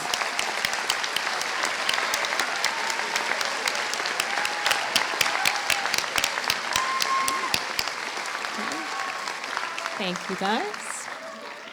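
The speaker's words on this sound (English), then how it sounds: "Let's give them a round of applause." Graduation audience applauds student government members and class officers with loud, sustained clapping and sharp nearby claps, then thins out as someone speaks briefly over the tail.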